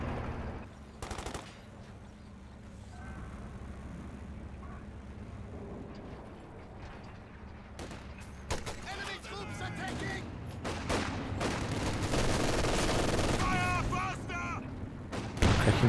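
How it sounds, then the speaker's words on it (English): Rapid gunfire rattles through a Company of Heroes 2 battle, with dense machine-gun bursts and scattered shots building into a louder, sustained fusillade over background battlefield rumble. "look at the rate of fire on that bad boy. Popping off shots very rapidly now."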